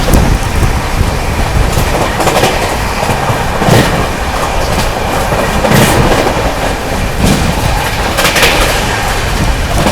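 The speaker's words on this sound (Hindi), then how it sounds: "क्या गजब की रफ्तार में स्किप कर रही है भाई महाराष्ट्र संपर्क क्रांति" The Maharashtra Sampark Kranti Express speeds through Sawai Madhopur Junction station: a loud, continuous rail roar with a rhythmic clickety-clack of wheels over track joints, heard close and without talk.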